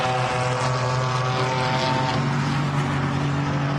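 GT4 race cars, a BMW and a Ginetta, race at the Nurburgring with a loud, steady engine drone and a layered harmonic whine that holds throughout, close and continuous.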